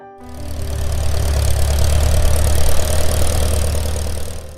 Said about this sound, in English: That familiar put-put-put exhaust note drifting across a field in the morning